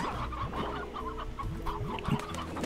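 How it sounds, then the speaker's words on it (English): Chickens clucking on a ranch in Slime Rancher, a few soft, repeated clucks at a moderate distance, steady and unaccompanied by talk. "Chickens are still growing."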